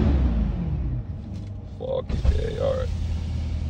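Corvette C8 engine revving up loud and close, a rough low growl swelling then dropping, with someone talking briefly over it.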